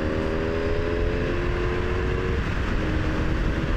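A motorcycle engine being revved and pulling away, heard as a loud, steady engine drone with a rising tone that fades into rushing road and wind noise.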